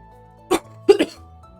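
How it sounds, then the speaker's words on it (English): A man tries to force out a burp and makes two short, throaty gulping bursts spaced a moment apart. They are close and moderately loud over quiet background music. "that was the sound of me trying to force a burp"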